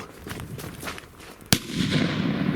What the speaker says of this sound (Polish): Petardka, gramatura, garnka, odpalamy, przykrywamy i w długą.